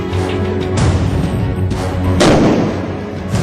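Diwali firecrackers bursting in Delhi NCR, three or four loud sharp blasts spaced irregularly over a rumbling background, nearby and booming.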